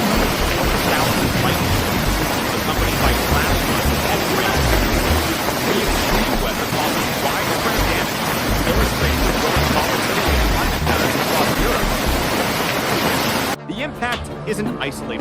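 Heavy rain and flash flood water in France during a lightning storm, a dense, loud continuous roar of pouring water and rushing flow that cuts off abruptly near the end.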